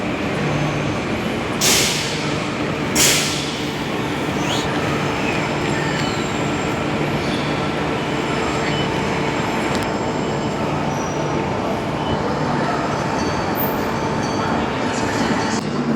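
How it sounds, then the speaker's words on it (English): Perth A-series electric passenger train rumbling steadily at a station, with a continuous wash of rail and carriage noise and a couple of brief sharp bursts early on. "There's two Perth trains."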